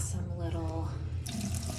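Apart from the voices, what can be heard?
water running from a fountain faucet in a hotel bathroom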